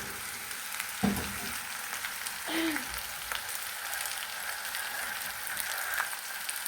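Food frying in a little oil, a quiet steady sizzle and crackle with a few faint clinks from a utensil, no voices.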